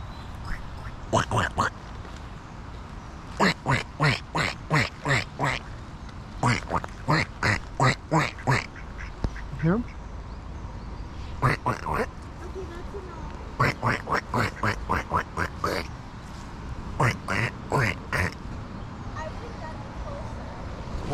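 Ducks at a Virginia campground give loud, close runs of quacks in bursts, each several calls long, with short gaps between them. Quiet voices and a faint background hum sit underneath.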